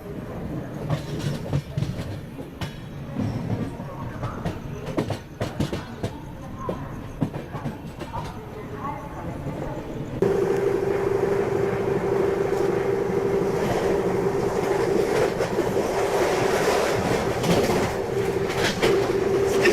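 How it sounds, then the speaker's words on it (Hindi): Mahamana Express train rakes being shunted at a railway station, rolling rail rumble with clicking wheel noise that grows into a loud steady drone in the second half, birds faintly around, no talk. "वहाँ देखिए महामना एक्सप्रेस के जो रेक है ना, उनकी शंटिंग हो रही है।"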